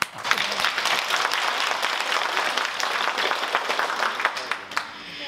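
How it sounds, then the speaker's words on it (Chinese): A lecture audience at Peking University applauds after a talk on Buddhist teaching, dense steady clapping that fills the hall and then thins at the end. "掌声表达我们对法藏师父精彩开示的感谢"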